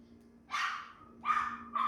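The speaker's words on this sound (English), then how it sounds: "That's the neighbor's dog." A neighbour's dog barks in three loud, close bursts about half a second apart, with a steady low hum underneath and no talking.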